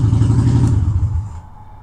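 Honda Shadow motorcycle engine after a clutch replacement, given a short rev that swells loudly and then drops away as it settles back toward idle.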